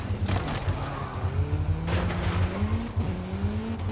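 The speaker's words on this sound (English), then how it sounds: "Gets into a Hoonigan RS200 there." Hoonigan RS200 rally car driven in a video game, a steady engine drone with rising revs and brief bursts, loud and continuous with no talk.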